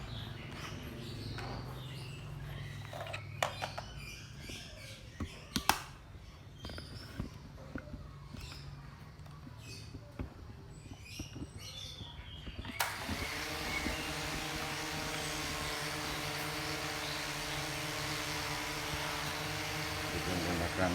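Mini drone taking off outdoors in strong wind, clicks and handling noises at first, then a steady whining rotor buzz starts abruptly and holds at close range.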